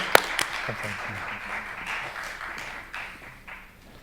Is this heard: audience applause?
yes